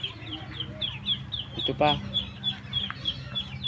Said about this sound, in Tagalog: May mga manok din dito mga ka-IMS.